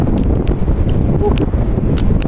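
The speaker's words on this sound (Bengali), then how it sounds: "আর সামনে থেকে বাতাস বাধা দিচ্ছে" A headwind buffets a cyclist's microphone while riding along a seaside road near hills, a loud, continuous low rumbling roar with gusty fluctuations.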